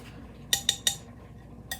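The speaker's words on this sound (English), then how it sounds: "I'm gonna grab me a tasting spoon, please." A regular metal spoon picked up for tasting homemade Arby's-style sauce clinks lightly against metal: three quick close clinks, a pause, then one more, all near and fairly soft, with no talking.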